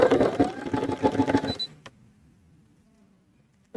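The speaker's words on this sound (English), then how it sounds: "And now we're going to sew this one and this one." A sewing machine stitching zipper tape, running in a fast close buzzing burst for about a second and a half before stopping, followed by near silence and a faint click.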